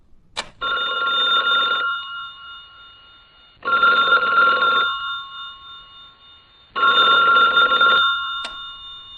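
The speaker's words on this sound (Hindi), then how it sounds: "अचानक फोन की घंटी बजी।" A telephone bell rings three times in a quiet room, each loud, steady ring lasting over a second with short silent gaps between.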